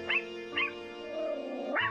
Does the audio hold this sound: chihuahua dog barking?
yes